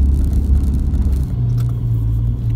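A Toyota Hilux 4x4 churns through forest ruts, its engine rumbling low and heavy as the wheels spin, and the pitch shifts midway into a steadier drone.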